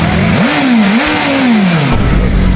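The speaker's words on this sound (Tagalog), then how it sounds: "Dito nga ay may biglang dumating na bagong-bago na BMW M1000RR." A brand-new BMW M1000RR motorcycle with its stock exhaust revs loudly and close, its engine note rising, dipping and climbing again before falling away, over heavy wind-like noise.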